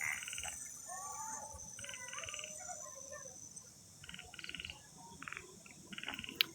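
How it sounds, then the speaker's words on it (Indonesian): Frogs croak at night in repeated short raspy bursts, moderately near, over a constant high insect drone and faint background noise. "Suara apa itu? Suara kodok."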